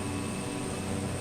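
Vision Jet aircraft in Microsoft Flight Simulator 2024, a steady broadband jet engine roar with a constant high whine, unbroken and fairly loud.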